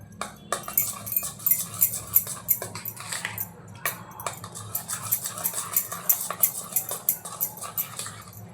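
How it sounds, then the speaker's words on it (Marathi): Spoon stirring powdered sugar into mango lassi in a bowl, a busy run of close clinks and scrapes against the container with a soft steady rhythm and light background hum. "जी पिठी साखर आपण तयार करून घेतले ती घालून घेऊया आणि छान याला एकजीव करून घेऊया"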